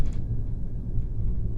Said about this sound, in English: There's a thunderstorm.